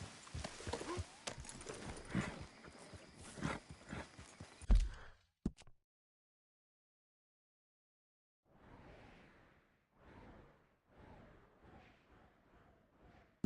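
Horse hooves pound in a fast gallop within Red Dead Redemption 2, loud and close at first, then after a silent gap return softer as a rhythmic series of thuds.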